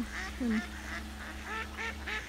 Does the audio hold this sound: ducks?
yes